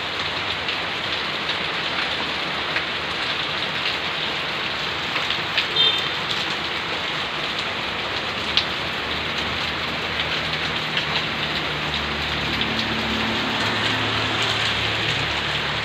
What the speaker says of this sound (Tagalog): saka naman umulan eh.